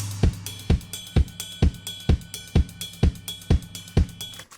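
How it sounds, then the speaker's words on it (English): An acoustic drum kit plays a steady beat, kick and snare hits alternating at a medium tempo with cymbal shimmer, up close and with no voices. "I just played it on my acoustic kit."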